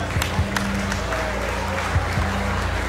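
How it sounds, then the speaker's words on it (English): An audience at a televised talent-show finale applauds loudly and steadily, with faint tonal music or stage sound underneath and some crowd noise mixed in. "A round of applause for him."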